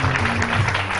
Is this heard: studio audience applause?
yes